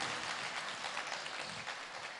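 Audience applause at a Jain religious discourse gathering, a steady wash of clapping heard faintly from a distance, continuous throughout with no speech over it.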